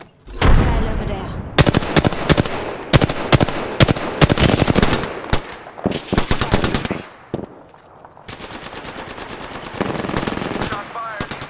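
Rapid bursts of automatic gunfire from the Apex Legends video game crack loudly in dense, repeated volleys, with short pauses between strings of shots and a steadier rattling stretch toward the end.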